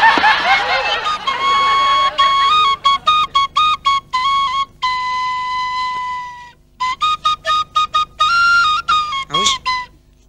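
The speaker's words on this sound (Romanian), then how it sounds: "Fluier, domne." A shrill fluier, a Romanian shepherd's whistle, plays a sequence of short and sustained notes at a sheepfold, starting and stopping in bursts, fairly close and loud.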